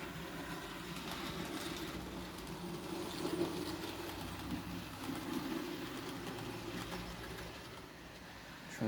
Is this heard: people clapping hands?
no